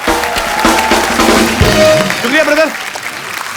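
A studio audience applauds on a comedy talk show, loud clapping mixed with music and a crowd, fading toward the end while someone speaks briefly over it.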